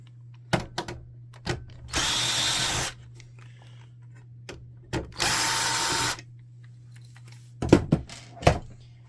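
A powered screwdriver backs out two screws from the control panel of an HP ENVY Photo 7858 printer, two separate steady whirring bursts of about a second each set between scattered light clicks and plastic taps, close and fairly quiet.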